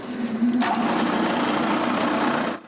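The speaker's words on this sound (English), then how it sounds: "Then I can cut all the corners." Hardwood pieces having their corners cut off with a power saw: a steady, loud, continuous whine that holds evenly for over two seconds, then cuts off abruptly.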